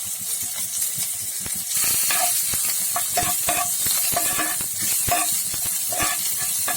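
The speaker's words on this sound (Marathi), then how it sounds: "लसूण मातशें अशें करून परतून घेवपाची" Garlic sautéing in a spoonful of oil in a pan, a continuous close sizzle with repeated scraping and stirring knocks as it is tossed, getting louder partway through.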